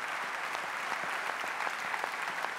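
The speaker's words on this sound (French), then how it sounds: "Des applaudissements pour Geoffrey Soupe, pour toute l'équipe, s'il vous plaît." A crowd at a ceremony honoring a Vendée professional cycling team applauds steadily. Dense, continuous clapping fills the clip at an even level, with scattered sharper claps.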